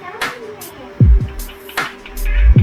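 A hard object removed from an ear is tapped on a chair tray, giving a few sharp close knocks in quick succession over faint background murmur.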